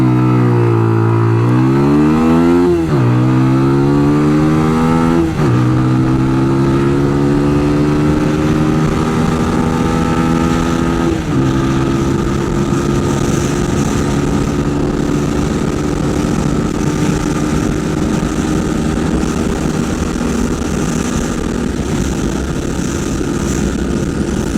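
A TVS Apache 200 4V BS6 motorcycle pulls hard through the gears toward top speed, its engine note climbing in rising sweeps that drop briefly at each shift, then holding a loud, steady high-rev drone with wind rush.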